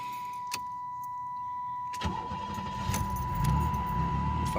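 Keys jangle in the ignition of a 1990 Chevrolet Lumina Eurosport with a 3.1 V6, followed by a steady warning chime. The engine then cranks and fires up into a rough idle with a slight misfire, heard close and without talk.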